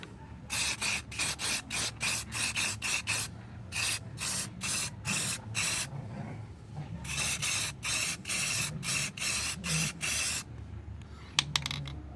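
Short repeated bursts of spray paint hiss rhythmically as a quick coat goes onto a car rim, close and fairly loud, with brief gaps between each pass.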